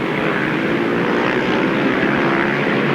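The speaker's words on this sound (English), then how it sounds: "That Godden engine really singing" The Godden engine of a grasstrack racing motorcycle roars steadily and loudly throughout, a continuous high-revving drone at a 1993 grasstrack meeting.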